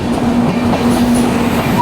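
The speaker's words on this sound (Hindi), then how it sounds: "देखिए, मैं कह रहा था ना इलेक्ट्रिक लोकोमोटिव भी है।" A train pulled by an electric locomotive rolls past near Abu Road on the Delhi to Ahmedabad line, a steady loud rumble with rail clatter and a faint whine throughout.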